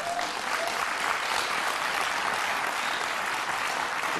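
Studio audience at a German TV comedy talk show applauding the guest Klaus Wowereit, Berlin's mayor; steady, dense clapping fills the room at an even loudness throughout, with no talk over it.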